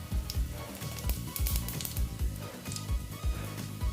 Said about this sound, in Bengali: দিয়ে আমি এটা ভেজে নিচ্ছি